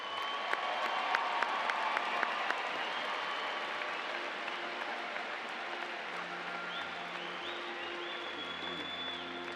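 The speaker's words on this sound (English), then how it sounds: "Will the audience please join me in applauding the achievements of these honored graduates?" An audience at a May 2018 commencement ceremony applauds its honored graduates, a steady wash of clapping from a large crowd throughout, with faint voices underneath.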